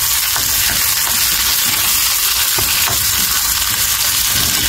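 Potatoes and green peas fry in a pan with onion, chopped chilli and ginger, giving a loud, steady sizzle with scattered crackles and occasional stirring scrapes, close up with no talking.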